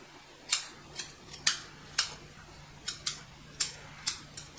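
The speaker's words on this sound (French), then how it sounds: "je place mes ciseaux, donc parallèle au coussinet, et je coupe" Scissors trimming the paw fur of a young Scottish Terrier during grooming, a series of about ten crisp, close snips at an uneven, unhurried pace, with a faint steady hum beneath.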